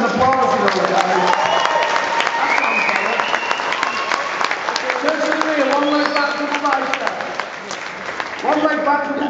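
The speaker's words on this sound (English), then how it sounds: "I really do think these deserve a bit more of an applause" Sustained audience applause fills a bodybuilding competition hall during an over-50s posedown, dense steady clapping throughout with a voice talking over it.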